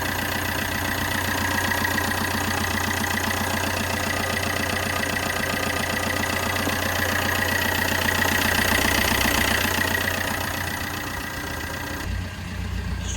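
A Vauxhall Combo 1.3 CDTI diesel van engine idles steadily nearby with a rough, slightly knocking chug that barely changes over its length.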